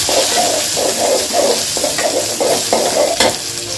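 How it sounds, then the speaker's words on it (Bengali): Onions fry in hot oil for an egg curry, making a loud, close, continuous sizzle. Rhythmic stirring strokes scrape through it, with a few sharper knocks and no voices. "একটু তেল দিয়ে দিলাম, পেঁয়াজটা দিয়ে দিচ্ছি, পেঁয়াজটা একটু ভেজে নিই"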